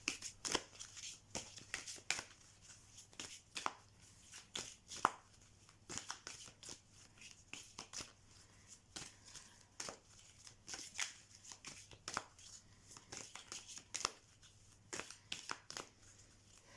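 Oracle cards of a Nordic magic deck being shuffled by hand, a steady run of soft papery riffles and slaps repeating throughout, close and fairly quiet with a faint low hum underneath.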